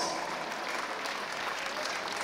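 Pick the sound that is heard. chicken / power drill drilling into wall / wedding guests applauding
wedding guests applauding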